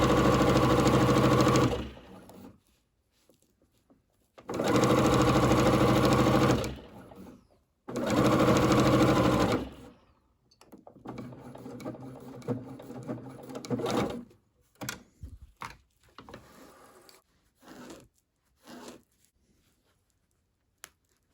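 A sewing machine stitches layered brown and gold fabric for a quilt-as-you-go coaster. It runs in three steady whirring bursts with short pauses, then continues in shorter stop-start stitching with clicks near the end.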